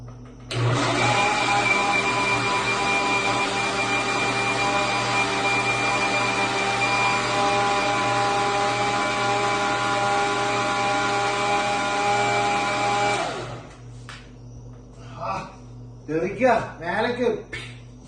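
A blender making a healthy juice runs loudly for about twelve seconds with a steady high motor whine, then cuts off, leaving quieter clinking and voices.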